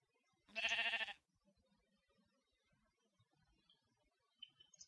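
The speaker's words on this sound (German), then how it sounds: "vermutlich das Schaf über mir herumtrampeln." A Minecraft sheep lets out a single short, clear bleat near the start, followed by quiet game ambience with faint footsteps and small sounds.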